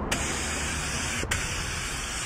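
A 3M Performance paint spray gun sprays paint with a steady, close, loud airy hiss that runs continuously with only a brief dip.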